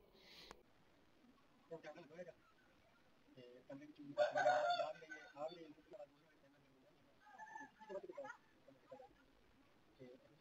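A rooster crows outdoors on a cold morning, the drawn-out call rising clearly at mid-level amid scattered talk and household noise.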